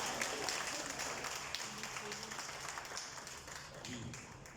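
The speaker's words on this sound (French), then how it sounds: "Nous applaudissons encore une fois." Audience applause at the inauguration of a daycare centre in Mauritius, a steady wash of clapping from a crowd that runs through the whole stretch at moderate level, with some voices mixed in.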